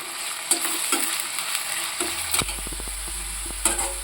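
Sliced onions fry in batches in a pan for chicken biryani, making a steady low sizzle. Spatula taps and scrapes land now and then, with a cluster of quick clinks midway.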